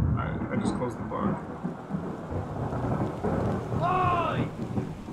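Thunderstorm in the video game Return of the Obra Dinn: steady rumbling thunder and rain wash throughout, with a distant voice briefly calling out near the end.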